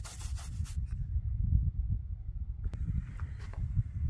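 A sponge rubs and dabs over a plaster mold to work color into its lines, giving close, soft, scratchy rubbing with low thuds, and no voices.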